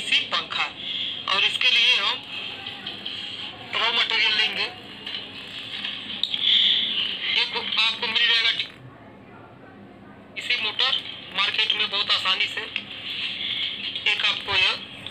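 A homemade amplifier plays phone audio streamed over Bluetooth, sending out loud, bright, voice-like bursts with a short quiet gap midway.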